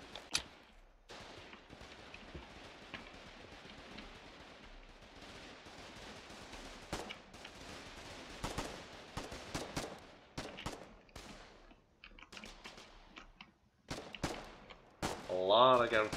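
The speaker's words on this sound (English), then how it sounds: "A lot of gunfire happening right now." Scattered gunfire in the video game Foxhole cracks in bursts and single shots, some distant and some close, with quieter stretches between volleys and a sharp blast near the end.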